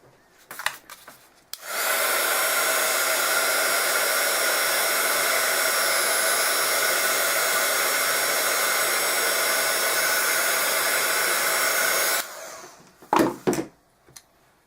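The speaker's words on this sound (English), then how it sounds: "dries very quick with the heat gun on this if you don't have a thick layer" A heat gun blows hot air over a thin layer of paint in one loud, steady whoosh lasting about ten seconds, with a few clicks and handling knocks before and after.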